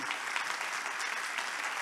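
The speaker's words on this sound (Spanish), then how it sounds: "pido un aplauso para ellos" An audience applauds a panel at the close of a technical discussion, a dense, even wash of clapping held steadily from start to finish at a moderate distance.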